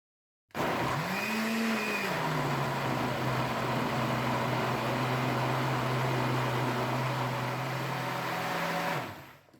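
A blender whirs up to speed and grinds tomatoes into paste steadily at a high, even pitch for several seconds, then cuts off.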